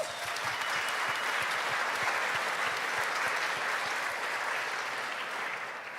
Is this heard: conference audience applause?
yes